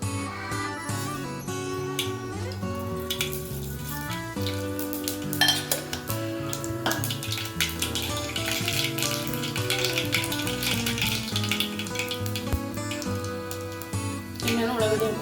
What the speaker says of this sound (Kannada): ಎಣ್ಣೆ ಕಾಯ್ದಾಗ ಸಾಸಿವೆ ಜೀರಿಗೆ ಹಾಕ್ತೀನಿ ರೀ